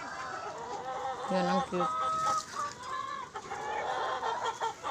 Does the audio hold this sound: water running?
no